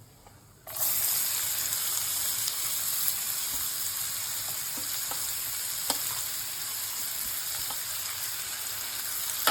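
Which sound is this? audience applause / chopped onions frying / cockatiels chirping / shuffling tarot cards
chopped onions frying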